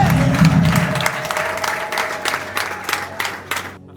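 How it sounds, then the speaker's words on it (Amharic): Congregation at a church deliverance service clapping and cheering together, a dense sustained wash of applause that thins out and fades near the end, with crowd voices mixed in. "ለእግዚአብሔር ክብር አጨብጭቡለት።"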